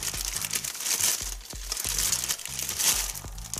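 Crinkling plastic packaging as a Tamiya M06 RC car chassis is unwrapped: continuous close rustling and crackling with sharp bursts, no voice.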